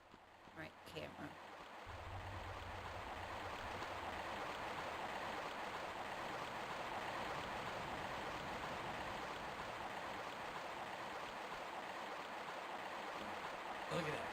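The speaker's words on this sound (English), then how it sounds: "Look at that river. This water is really loud." Loud rushing river water in a Lara Croft Tomb Raider video game, a steady broadband roar that swells in after a brief quiet start and runs continuously throughout.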